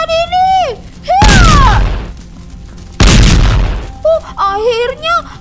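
Two heavy booming bursts of gunfire ring out in an animated cartoon fight, each a loud broadband blast lasting under a second. Cartoon children's voices shout and talk before, between and after the shots.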